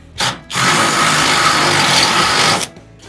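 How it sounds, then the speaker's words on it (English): A power drill bores out a part on a pickup truck, one short burst followed by a long, loud, steady whine lasting about two seconds before stopping abruptly. "So let's get this guy drilled out."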